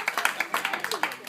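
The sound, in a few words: people clapping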